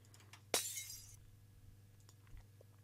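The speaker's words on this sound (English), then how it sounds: "So we have this one here, which is just regular smash of a glass." A single glass smash made as a sound effect for Westworld: one sharp, bright shattering burst with a brief tinkling tail, followed by faint small clinks against a quiet background.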